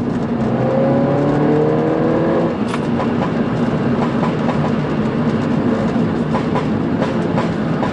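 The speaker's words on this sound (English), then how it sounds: "if I just turn the sport button on" Mini with an Akrapovic downpipe exhaust in sport mode gives a loud, continuous rumbling drone with a rising tone early on, then a sharp crackle and steady rough noise.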